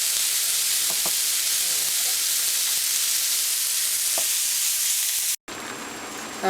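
Mushrooms sautéing in a pan for a chicken-vegetable pie give a steady, close sizzling hiss with a few soft stirring clicks, broken by a brief gap near the end before the frying resumes.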